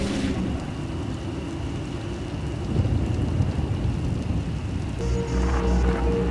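Steady heavy rain pours through a storm in Star Wars: The Old Republic, with deep rumbling thunder swelling midway and a brighter tonal sound entering near the end, no voices.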